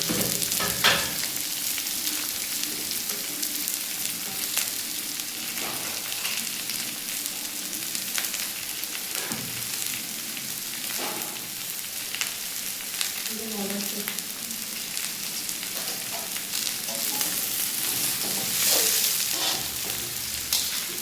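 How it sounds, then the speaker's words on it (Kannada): Two kilograms of onions frying in a large pot of hot oil in a village festival kitchen, cooking for mutton: a steady, dense sizzle with scattered stirring clatter, continuous and fairly loud, with no talking. "ಎಣ್ಣೆ ಕಾದಿದೆ. ನಾನು ನೋಡಿ 2 kg ಈರುಳ್ಳಿ ಹಾಕ್ತಾಯಿದ್ದೀನಿ."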